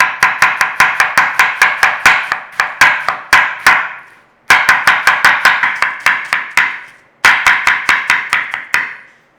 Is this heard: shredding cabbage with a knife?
yes